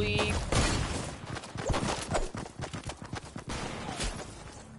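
Sniper gunfire in Fortnite Battle Royale: loud, sharp shot cracks and bursts over busy game sounds, with a player talking throughout.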